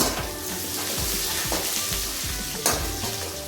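Cashews, peanuts and finely chopped curry leaves sizzle and crackle steadily in hot oil in a pan, with stirring scrapes and a brief sharper burst near the end; no voices.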